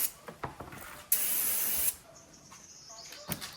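One short, loud burst of WD-40 aerosol spray hisses for under a second amid quiet handling clicks and rustles, while making concrete planters.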